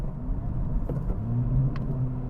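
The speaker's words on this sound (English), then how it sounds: "you can hear a little bit of that rumble back there, thanks to, well, a slightly different exhaust than the Civic" An Acura Integra Type S engine revved to around 3,500–4,000 rpm, a steady low exhaust rumble droning from behind the cabin, close and continuous with no talk.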